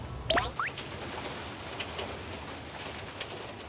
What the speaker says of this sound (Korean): 지금도 빗방울이 살짝 내리거든요.